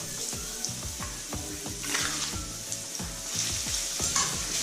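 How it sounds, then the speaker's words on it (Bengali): Olives sizzling and frying in hot oil with fried garlic, stirred with repeated scraping strokes, a steady close crackle for pickle-making. "এবারে এই জলপাইগুলো দিয়ে দিচ্ছি।"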